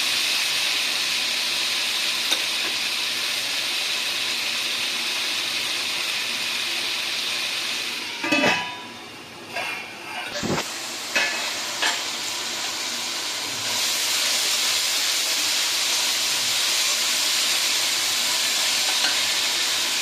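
Vegetables for rava kichdi sautéing in a pan, a continuous bright hiss of frying that briefly dips midway as a few stirring clatters sound, then resumes steadily.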